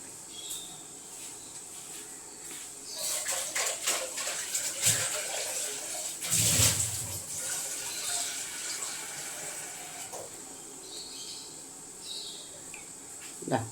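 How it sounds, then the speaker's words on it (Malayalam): Water is poured into a cooking pot holding sambar vegetable pieces, a splashing gush rising in the middle and fading, with scattered kitchen clatter around it and no talk. "ഒരു വെള്ളം ഒഴിച്ചു കൊടുക്കണേ."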